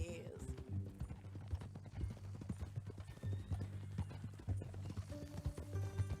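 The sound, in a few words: horse hooves clip-clopping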